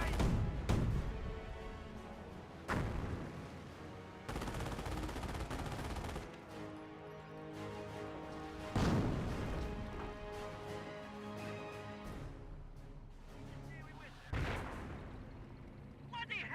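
Gunfire and artillery crash through a Company of Heroes battle, with sharp loud bursts and booming impacts recurring every few seconds over a dense, continuous layer of war noise.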